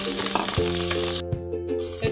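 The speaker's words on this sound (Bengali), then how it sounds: "কড়াতে দেখুন তেল গরম হয়ে গেছে। তো আমি এখন ডিমটা ভেজে নেব।" Fish roe frying in hot oil in a wok, a steady close sizzle with crackling pops over a continuous hiss.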